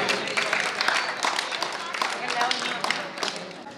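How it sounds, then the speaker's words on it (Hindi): Children at a yoga awards ceremony clap loudly together, a dense, brisk burst of applause sustained throughout, with a voice speaking over it. "एक बार ताली बजाइए बच्चे जोर से"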